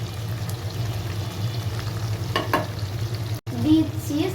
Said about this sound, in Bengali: এগুলোকে 1 মিনিট হাই হিটে ভেজে নিব।